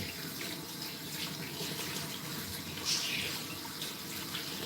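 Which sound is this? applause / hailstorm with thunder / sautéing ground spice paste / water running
water running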